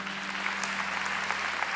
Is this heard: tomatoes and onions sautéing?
no